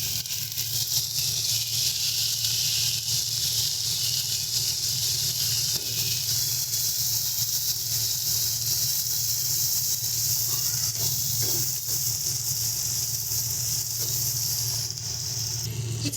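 Ground masala of coriander and cumin powder with salt being fried in a pan for a pickled puti fish dish, giving a continuous, even sizzling hiss over a low steady hum, with no voices.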